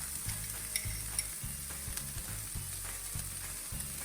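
Garden tomatoes and minced garlic fry in a pan for an omelet, giving a continuous bright sizzle with light stirring and a repeating low mechanical thrum underneath.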